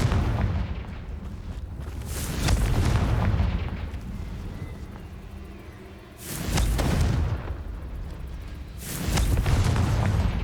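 The Confringo fire spell explodes in Hogwarts Legacy in a series of heavy, booming blasts a few seconds apart, each rumbling and roaring before easing off.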